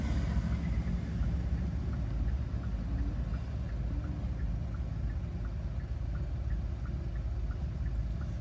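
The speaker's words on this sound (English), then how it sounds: "we'll signal left and we'll maintain our left signal throughout" A car's turn signal ticks steadily at an even rhythm, faint clicks over a low road and engine drone inside the cabin.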